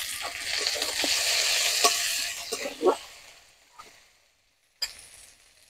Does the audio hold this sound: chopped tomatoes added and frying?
yes